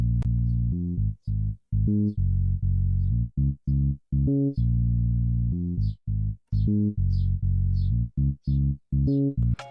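A deep synth bass plays a staccato Afrobeat line of repeated short notes with a few longer sustained ones, heard solo.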